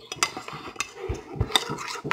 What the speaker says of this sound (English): Okay, so we're going to keep on stirring this.